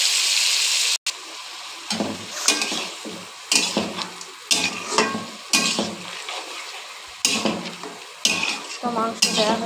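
Pieces of duck meat fry and sizzle in hot oil with cumin, bay leaf and dried chili, stirred with repeated scraping strokes of a spoon against the pan; close and steady, no talk.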